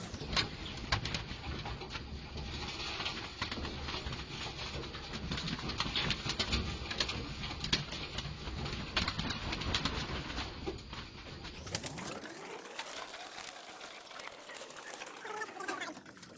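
Racing pigeons coo softly at close range during feeding amid faint pattering and rustling, with a brief whoosh of movement near the end.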